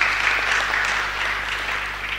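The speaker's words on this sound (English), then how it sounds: "Why don't you give a clap offering to the Lord?" A church congregation at a wedding service gives a clap offering to the Lord: a short, continuous burst of dense, even applause from a large crowd, with no talking over it.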